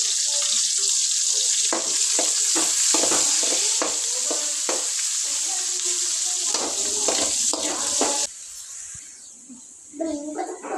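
Cumin, mustard seeds and curry leaves sizzle loudly in hot oil with scraping stir strokes close by, and the hiss drops noticeably near the end.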